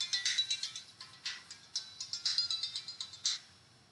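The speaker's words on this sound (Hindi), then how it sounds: "फोन आ रहा है, देखते हैं।" Phone ringtone for an incoming call, a bright chirping pattern of repeated short bursts in quick rhythmic groups, sounding alone and fairly loud with no talk over it.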